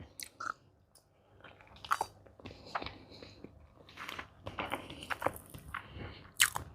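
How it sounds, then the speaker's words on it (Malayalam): Close, soft chewing and biting of a boiled egg eaten with lemon rice, irregular moist squishes and small crunches in uneven bursts with brief pauses, fairly quiet and with no talking. "നമുക്ക് ഈ മുട്ട ഒന്ന് കഴിച്ചു നോക്കാം അതിൻ്റെ കൂടെ."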